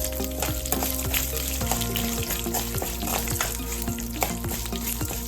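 Dried red chillies and garlic sautéing in a pan for a spicy onion-tomato kara chutney, giving a dense, continuous sizzle with stirring scrapes, close and fairly loud, with no talking.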